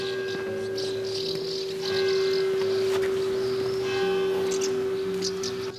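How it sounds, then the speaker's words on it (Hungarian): Church bells in Kőszeg, Hungary, ring with a steady sustained tone and overlapping strikes, heard from a distance over outdoor ambience, without anyone speaking. "Kőszegen mindig harangoznak,"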